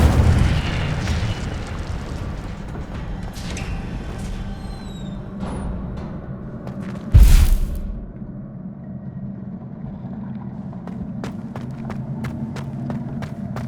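An Incendio fire spell is cast in the video game Hogwarts Legacy: a single sudden, loud fiery burst midway through, rising sharply over steady rumbling game ambience and then fading back into it.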